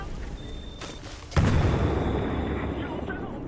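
A frag grenade in Titanfall 2 goes off with a single loud, close boom that cuts in sharply and leaves a broad rumbling wash fading slowly behind it.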